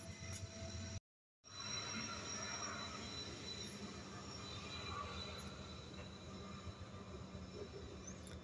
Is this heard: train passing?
yes